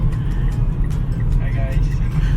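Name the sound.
car driving, heard from inside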